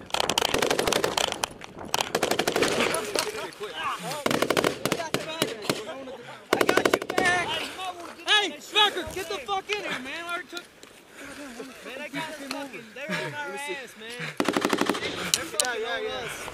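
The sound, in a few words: gunfire during combat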